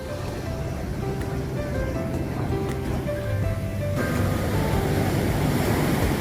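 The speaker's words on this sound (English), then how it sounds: "We are at the Atlantic Ocean in Benin." Atlantic Ocean surf washing onto a beach in Benin, a steady broadband wash of breaking waves that swells louder midway, with wind noise on the microphone and no talk.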